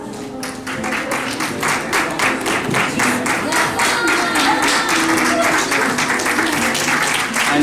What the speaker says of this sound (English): everybody to give them a round of applause, please